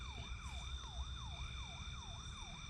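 Emergency siren wailing in a fast repeating up-and-down sweep, about eight cycles, steady and fairly distant.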